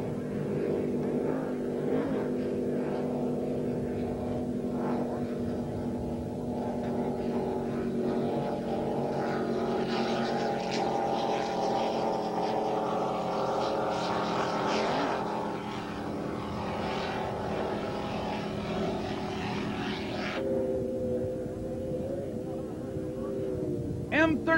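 Offshore powerboat racing engines from the 1989 APBA round in Marathon, Florida drone steadily and loudly throughout, a sustained roar with shifting pitch as boats pass, with a commentator's voice over it.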